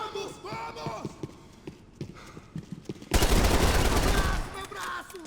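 Loud burst of gunfire in the video game Max Payne 3, a dense rattling volley after quieter scattered sounds and voices, then fading out.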